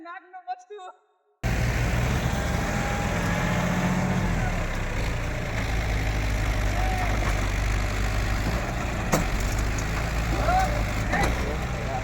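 A Mahindra and a John Deere tractor are stuck in a pit during a tochan pulling contest. A steady, loud diesel engine drone rumbles on after a brief voice at the start.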